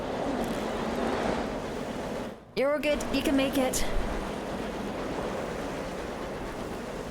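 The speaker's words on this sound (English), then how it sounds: "It's okay, it's only a storm." A storm rages in the Sunless Skies video game, steady roaring wind and rushing noise under a voice, with a short rising whistling chime breaking through partway.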